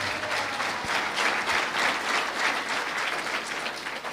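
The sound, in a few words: applause for Christ in a church service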